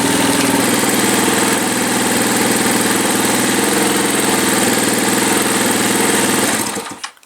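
A Hawk 250 motorcycle engine idles steadily and close with the key switch disconnected, an even mid-pitched putter that drops away as it cuts off at the end.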